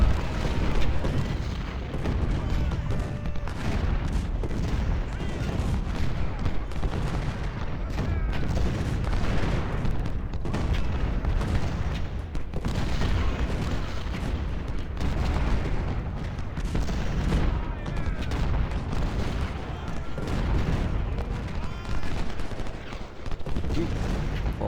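Artillery and massed gunfire rumble through a large American Civil War battle in the 1862 Peninsula Campaign, a continuous, dense barrage of booms and volleys that stays loud throughout with little pause.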